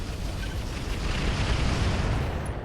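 LRM-20 missile salvos and artillery fire in the RogueTech mod of the BattleTech game, heard as a dense continuous roar of launches and explosions, loud and steady with no breaks.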